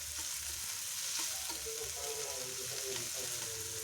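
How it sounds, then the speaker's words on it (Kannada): Chopped onions fry steadily in a hot pan with a continuous close sizzle, punctuated by occasional stirring scrapes and no talking. "ಎಲ್ಲನೂ ಚೆನ್ನಾಗಿ ಫ್ರೈ ಮಾಡ್ಕೊಳ್ತಿದ್ದೀನಿ. ಈರುಳ್ಳಿನೂ ಕೂಡ ಚೆನ್ನಾಗಿ ಫ್ರೈ ಆಗಬೇಕು. ಫ್ರೈ ಆಗ್ತಾಯಿದೆ."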